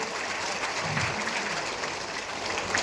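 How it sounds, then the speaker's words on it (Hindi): A political rally crowd welcomes Rajnath Singh with continuous, dense applause, a steady distant wash of clapping and crowd noise lasting a few seconds. "जोरदार तालियों से आदरणीय राजनाथ सिंह का स्वागत करें।"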